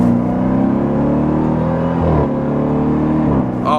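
A 2023 Dodge Durango Hellcat engine accelerates under load, a loud, close, steady drone that climbs in pitch, dips briefly at a gear shift, then climbs again.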